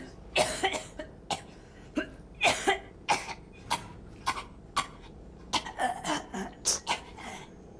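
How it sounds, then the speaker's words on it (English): A string of a dozen or so short, exaggerated fake coughs from a video game voice actor, sharp and close, spaced irregularly with brief pauses between bursts. "that's like the most phony, like, cough cough that I've ever heard"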